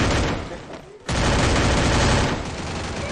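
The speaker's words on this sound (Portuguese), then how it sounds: "olha essa arma, velho. Olha como varia os tiros." Rapid bursts of gunfire from a weapon in the Free Fire video game, loud and dense, with a brief gap near the one-second mark before the firing resumes.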